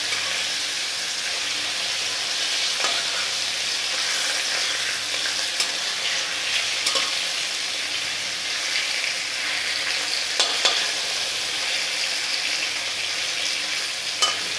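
A large chital fish sizzles steadily in hot oil, a dense continuous frying hiss with occasional sharp spatter pops and faint stirring, loud and close throughout with no voices.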